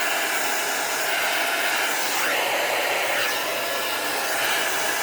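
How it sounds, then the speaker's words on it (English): A heat gun blowing hot air to dry alcohol inks, a loud continuous roaring whoosh held steady throughout, close by, with slight shifts in tone as it is moved around and no voices. "let's go ahead and take the heat gun and I'll show you what happens when it gets dry"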